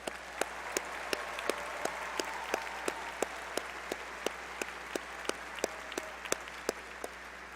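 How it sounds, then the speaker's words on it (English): A large audience at a graduation ceremony applauds the doctoral graduates with steady, sustained clapping from a crowd, heard from a distance, with sharp louder claps from one nearby person standing out at regular intervals. "Please join me in extending another round of applause for our doctoral graduates."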